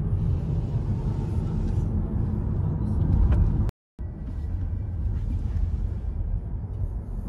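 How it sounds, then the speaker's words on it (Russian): A Hyundai Kona electric car drives along with a steady, loud low road rumble inside the cabin, cut by a brief dropout midway. "а мы сейчас разгонимся и потом отпустим педаль"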